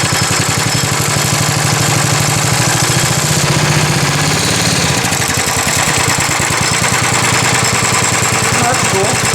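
Small go-kart engine running loud and close throughout, a steady mid-pitched buzz with a rhythmic throb that shifts tone partway through as the throttle changes, with some background talk.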